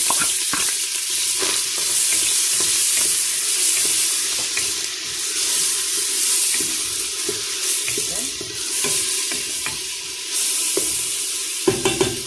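Peppers frying in hot oil, a steady close sizzle with intermittent stirring clinks and scrapes, loud and continuous for several seconds.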